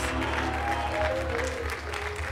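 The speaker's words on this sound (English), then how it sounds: "Give the Lord a hand clap of praise." A church congregation gives a steady hand clap of praise at a Sunday service, dense continuous clapping blended with organ or music drone underneath, loud and sustained throughout.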